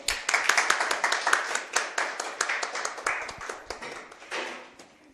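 A roomful of people at a presentation event clap steadily for several seconds, a dense patter of hands that thins and fades out toward the end.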